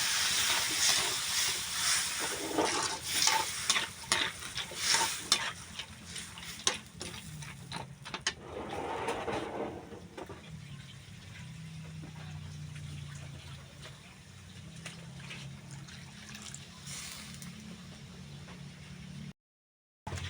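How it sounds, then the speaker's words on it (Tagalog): Water poured into a pan of sautéed sopas sizzles and hisses steadily, with faint ticking and bubbling, loudest early then settling into a softer simmer. "Ayan, lagyan natin ng water."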